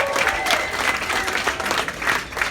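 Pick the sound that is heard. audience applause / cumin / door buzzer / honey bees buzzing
audience applause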